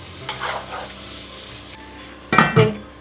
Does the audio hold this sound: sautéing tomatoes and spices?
yes